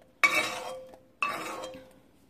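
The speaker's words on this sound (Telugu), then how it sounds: "ఇప్పుడు ఆ మిక్సీలోకి వెల్లుల్లిపాయలు పచ్చిమిరపకాయలు కూడా వేసేసామండి" Garlic cloves and green chillies dropped into a mixer jar, two separate sharp clinking impacts about a second apart, each ringing briefly and fading, close and alone without talk.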